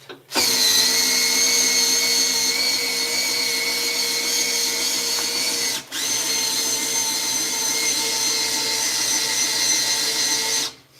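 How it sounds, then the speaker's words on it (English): A handheld power drill with a wobbling bit runs at a steady high whine, loud and close, in two long bursts separated by a brief pause. "if you watch my drill here, I made this, and look at what happens. See how it's wobbling?"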